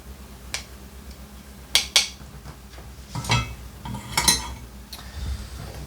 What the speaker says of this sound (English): we press those petals into our strainer to get all that syrupy goodness out of